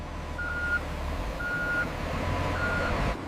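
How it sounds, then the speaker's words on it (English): Truck reversing beeps at a large cassava processing plant, three evenly spaced tones over a steady engine rumble, no talk. "Workers guide trucks into the unloading position."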